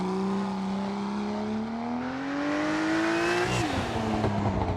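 A BMW M2 Competition in Dirt Rally 2.0 revs hard as its engine pitch climbs smoothly through a gear, then drops sharply on lifting off the throttle, loud and sustained.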